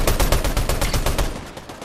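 Rapid automatic gunfire in a Fortnite-style battle game, a loud close burst of evenly spaced shots in quick rhythm that breaks off near the end.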